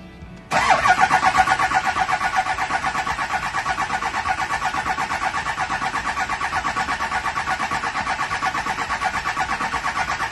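The starter on a 2002 Chevrolet 2500HD with a Duramax diesel engine cranks the engine steadily for about ten seconds without it catching, with a loud, close, rhythmic chugging.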